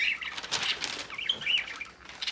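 Wings flutter in quick bursts while about seventeen small pet birds chirp and tweet repeatedly, close by, with a steady busy rhythm throughout.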